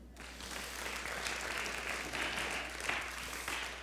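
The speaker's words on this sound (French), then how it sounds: "On l'applaudit." A congregation applauds André at a church gathering, a sustained, even round of many hands clapping at moderate loudness, swelling slightly near the end.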